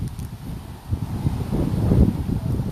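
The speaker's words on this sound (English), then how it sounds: "So you're hearing the wind blow." Steady wind blowing and buffeting against the microphone, a low rumbling rush that swells slightly toward the end, with no voices.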